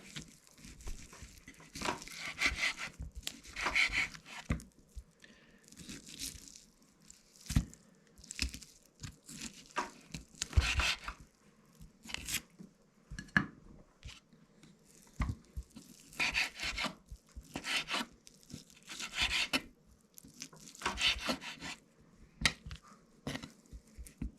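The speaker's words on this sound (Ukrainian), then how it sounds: "Ну і зараз будемо також його різати і пробувати дегустувати." A knife saws through smoked meat in a long series of quiet rasping, crunchy strokes that come in irregular bursts with short pauses between them. The cutting is close and there is no talking.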